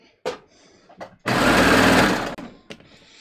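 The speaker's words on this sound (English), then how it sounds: "I'm just going to stitch these two sections together" A sewing machine runs a flat lock stitch joining two fabric sections of a skort, a steady whirring burst of about a second after a few short clicks and taps, close and clear.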